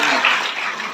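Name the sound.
applause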